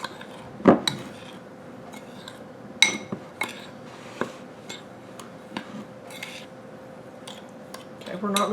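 Cocoa powder and brown sugar being stirred together in a bowl for a hot fudge pudding cake: sparse close clinks and taps of a utensil against the dish, scattered irregularly over near silence, with a sharper clatter at the end.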